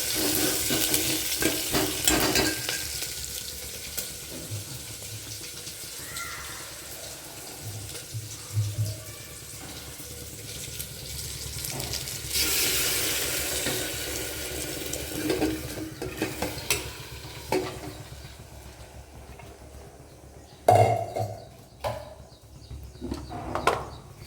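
Curry leaves and green chillies for rasam crackle in hot oil over a long stretch, mixed with stirring and running tap water in a home kitchen, with sharp louder pops toward the end.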